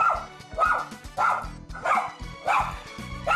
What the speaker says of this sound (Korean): 송길이는 짖기 바쁜데요